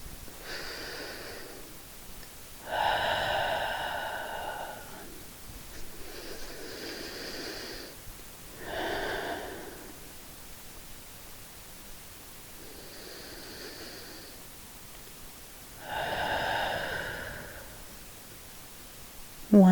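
Slow, deep breaths during a postpartum yoga pose, roughly six long airy inhales and exhales spaced several seconds apart, close and soft, with no talking.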